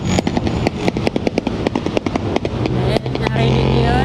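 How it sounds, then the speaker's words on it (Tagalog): A rapid series of sharp pops and bangs from motorcycle exhausts backfiring like firecrackers, heard outdoors near a busy road, then a steadier engine drone. "Mga tambucho ng mga motor ang ginagawa ng paputok."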